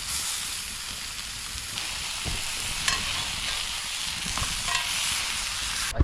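Steak frying in a pan on a camp stove outdoors by a Scottish loch, a steady close sizzle and hiss with occasional scrapes and stirring clicks, no talk.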